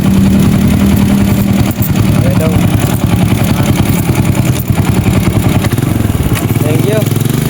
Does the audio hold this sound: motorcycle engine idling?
yes